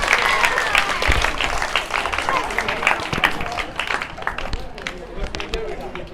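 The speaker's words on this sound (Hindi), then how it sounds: "तालियां बजाते हैं, बच्चों को हौसला अफजाई करें" An audience at an Islamic quiz event claps for a children's quiz team, a dense, continuous round of applause with scattered louder claps over background chatter.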